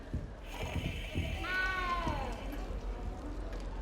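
A cat in the Hogwarts Legacy video game lets out a single clear, rising-and-falling meow, mid-distance, over soft game ambience and footsteps.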